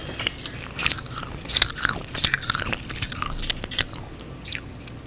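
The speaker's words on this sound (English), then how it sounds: "Y'all, that is a crunchy nug." Someone bites into a crunchy chicken nugget and chews it up close, giving a burst of sharp crunches followed by irregular, moist chewing crackles with no talking.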